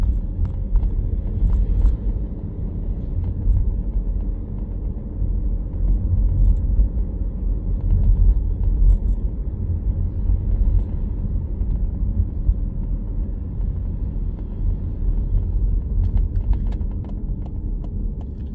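Car engine rumbling steadily from inside the cabin as it accelerates on a road near Saint-Brice-sous-Forêt during a driving exam. A constant low drone holds with little change throughout.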